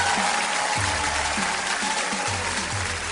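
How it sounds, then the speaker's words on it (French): A live audience applauds continuously, a dense, loud wash of clapping at a public show with no talk over it. "applaudissez très fort pour vous-même"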